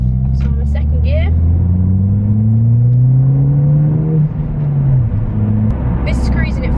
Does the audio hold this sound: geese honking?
no